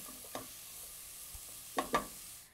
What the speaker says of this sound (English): and pecans, and just saute them for a little bit.